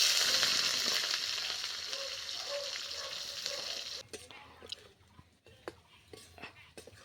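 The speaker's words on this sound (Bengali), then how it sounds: "এবার দিয়ে দেবো কেটে রাখা পেঁয়াজ" Chopped onions frying in hot oil with cardamom, cloves and cinnamon, a steady bright sizzle that fades after about four seconds into scattered clinks and stirring.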